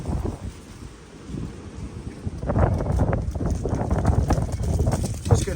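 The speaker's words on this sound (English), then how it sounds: "Let's get out of the wind here." Wind blows outdoors in gusts, roaring and buffeting against the microphone with low rumbling bursts that grow stronger midway, without clear speech.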